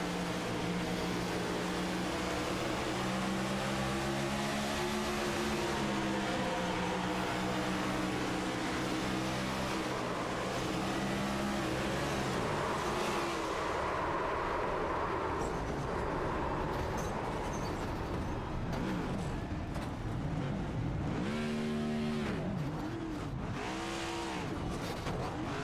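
Onboard a racing car, the engine roars loudly and constantly, its pitch climbing and falling through gear changes during a night race, with no talk.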